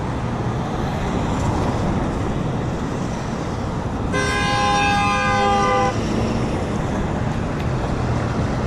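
Car horns honking at a roadside protest at a windy, busy intersection in Salem: a horn blast of about two seconds rises over steady wind and traffic noise, with no talking.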